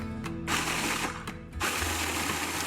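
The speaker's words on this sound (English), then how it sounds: "Just pulse the food processor until you have a fine grind." A food processor pulses Oreo cookies into fine crumbs: loud, close motor roars broken by brief pauses between pulses, with a rough grinding rattle running through each burst.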